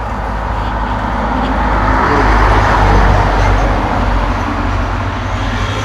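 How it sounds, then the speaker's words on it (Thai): Steady, loud road traffic rumble as a vehicle travels on the road ahead, a continuous broad roar that swells slightly midway with no clear separate pass-by. "รถข้างหน้า"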